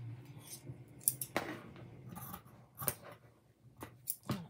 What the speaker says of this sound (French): Et maintenant, je vais découper.